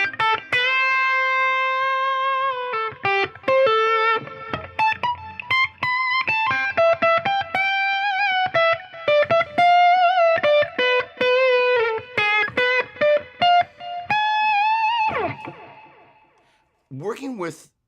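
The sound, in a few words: guitar played through delay and reverb effects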